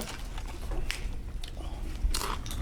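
Someone biting into and chewing cranberry chicken close up, a few crisp crunchy bites over a low background hum, with faint room noise around.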